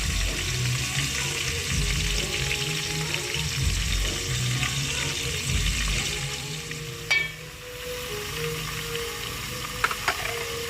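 Ginger-garlic paste fries in a pan, a continuous close sizzle with low rumbling and occasional faint clinks of a spoon against the pan, no voices over it.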